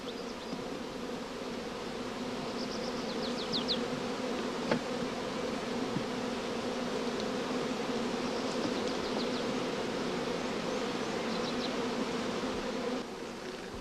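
Dense, continuous buzzing of many honeybees swarming around an open hive, a steady close hum with occasional higher whines as individual bees fly past.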